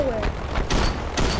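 Gunfire in the Ravenfield war game, heard as several separate loud cracks and booms spaced across a second and a half, with a voice talking around them.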